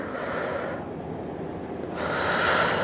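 Slow, close breathing during a pelvic floor workout: a breathy exhale, a quiet gap, then a stronger, louder breath, with no one speaking.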